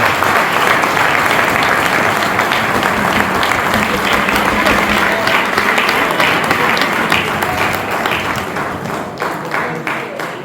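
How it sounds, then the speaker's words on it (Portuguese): An audience applauding at a municipal sports ceremony in Vizela, a long, loud and dense round of clapping from a large crowd that holds steady throughout and eases slightly near the end. "Uma salva de palmas."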